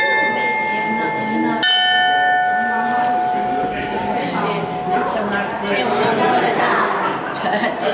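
A peal of five church bells ringing at a national bell-ringers' gathering in Imola, Italy: clear struck tones with long hum decay, repeated strikes under crowd chatter and someone talking.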